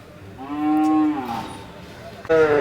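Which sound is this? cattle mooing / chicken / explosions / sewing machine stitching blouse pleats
cattle mooing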